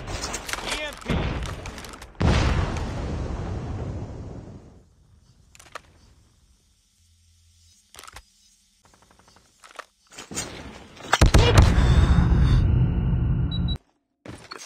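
A grenade detonates during a Call of Duty Search and Destroy match, one of several heavy booming blasts and thuds among gunfire and game voice callouts, separated by near-silent gaps.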